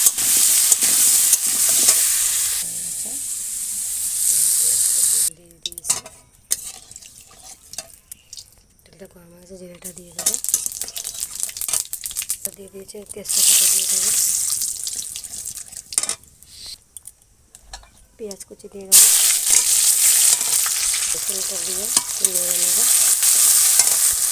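Marinated chicken pieces frying in hot oil over a coal fire, a steady loud sizzle rising and falling in bursts with spoon stirring, interrupted by short gaps where a voice talks.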